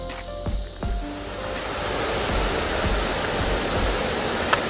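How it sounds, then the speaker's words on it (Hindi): Large waterfall on the Madmaheshwar trek in the Himalayas, a steady roar of falling water that stays loud and continuous throughout, with a few brief low thumps near the start. "यात्रा में जाते हुए हमें पहला झरना मिल रहा है"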